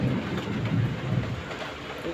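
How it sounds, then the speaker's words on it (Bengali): Steady rain falls during a dark morning storm outdoors, with the low rumble of distant thunder rolling continuously beneath the downpour at a constant, moderately loud level. "শুধু বৃষ্টি হচ্ছে।"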